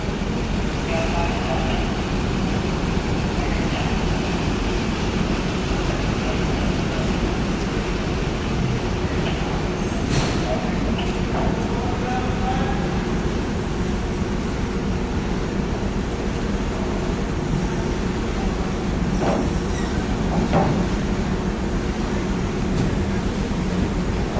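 Vehicles drive a travel trailer aboard a Washington State ferry, the Kennewick; a steady loud rumble of engines and deck noise runs throughout, with faint clanks and a high whine now and then.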